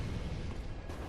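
A large exploding bolt blast in Dark Souls 3 fills the whole moment with a loud, sustained low rumble that lingers without fading, with no one speaking over it.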